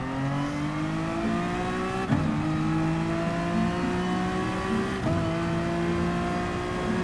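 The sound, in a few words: race car driving over a curb, from the video game Gran Turismo Sport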